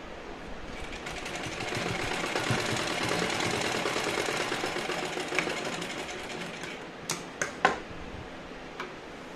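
A sewing machine stitches the belt of a simple salwar, running steadily and close for most of the stretch, then slowing into a few separate clunks and ticks as it stops and restarts near the end.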